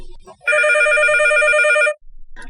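One loud burst of a phone's warbling electronic ring trills for roughly a second and a half, close and clear, with faint brief noises just before and after it.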